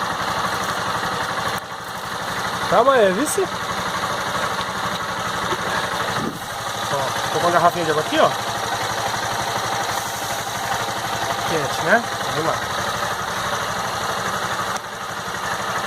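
A hot Honda Fan 160 motorcycle engine with a reported mechanical noise idles close by, a steady mid-pitched putter with a few brief rises in revs, while someone talks over it.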